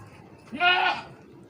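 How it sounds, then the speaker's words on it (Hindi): A young dark brown goat, about five months old, at a livestock market gives a single short, close, loud bleat. "ये डार्क ब्राउन वाला ही बकरा है"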